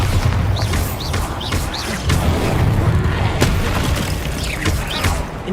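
Bombarda spell explosions from the video game Hogwarts Legacy, a dense run of booming blasts and crashes rolling over a continuous low rumble, loud and near throughout, with brief whooshing spell effects between hits.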